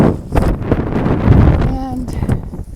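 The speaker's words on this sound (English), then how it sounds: "It's really windy up here on the top." Strong gusty wind on an open mountain summit buffets the microphone with loud, rough low rumbling throughout, and a brief tonal whistle cuts through near the end.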